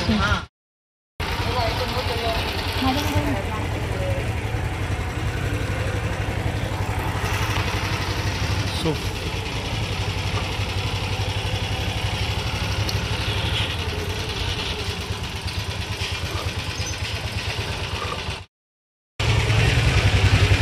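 A boat's engine running as it sets off through the Pattaya floating market, a steady close mid-pitched drone with some clatter lasting almost throughout, cut by two brief silences near the start and end.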